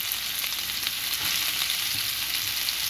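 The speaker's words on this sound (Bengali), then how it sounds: "তেল দিয়ে পেঁয়াজটা দিয়ে দিব, তো পেঁয়াজ দিয়ে দিচ্ছি" Onion hitting hot oil for a Bangladeshi pigeon meat curry, a loud, even hiss of frying that holds steady throughout with no talk.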